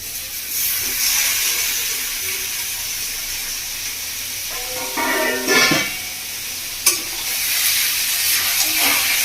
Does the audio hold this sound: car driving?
no